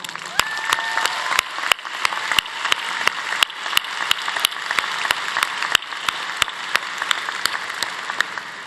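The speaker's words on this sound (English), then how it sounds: "please join me in a round of applause for our outstanding faculty" A crowd applauding steadily at a university commencement ceremony, dense clapping throughout with a few sharp louder claps standing out near the front, no voices.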